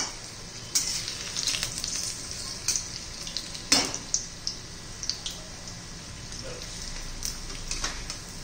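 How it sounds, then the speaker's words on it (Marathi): Green chilli bhaji fritters deep-frying in hot oil over a medium flame: a steady, close crackling sizzle with scattered sharp pops and a few louder bursts, no voices. "एकदम मोठ्या गॅसवर पण नाही तळायचं, मध्यम गॅसवर तळायचे"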